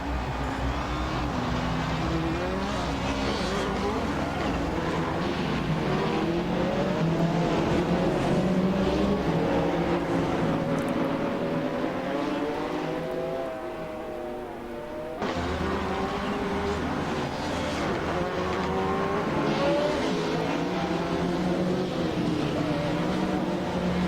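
Race car engines in the Assetto Corsa racing game drone continuously, with rising and falling revs and layered engine tones from several cars, loud and steady throughout with a brief dip partway.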